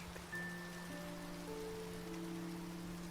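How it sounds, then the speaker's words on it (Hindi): Steady rain patters on a surface, a soft, even hiss with sustained music tones held over it throughout. "अब अंदर और बाहर दोनों तरफ बारिश हो रही।"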